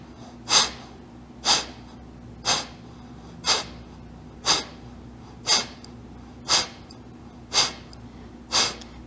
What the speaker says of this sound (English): Slow, easy posture here, and slow, easy breath of fire. 10 rounds.